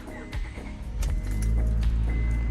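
A 2002 Honda Odyssey minivan starting up, with a short starter whir that settles into a steady low engine idle, heard close from inside the cabin.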